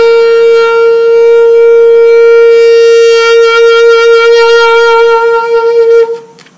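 A single sustained high G on a saxophone, in the upper octave, loud and steady, held for about six seconds before cutting off.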